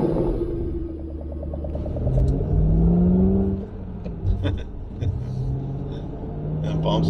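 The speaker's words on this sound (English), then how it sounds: "I take you for a little ride in a 2011 Shelby GT500 with the SVT package" A 2011 Shelby GT500 with the SVT package drives along, its engine a low steady rumble that swells briefly as it accelerates, heard from inside the cabin while people talk over it.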